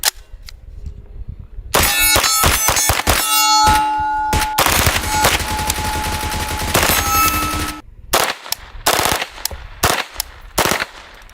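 A PP-19 Bizon submachine gun fires in real life, loud rapid bursts mixed with ringing metallic clangs of ejected casings, followed by a scatter of sharper separate shots after a brief pause.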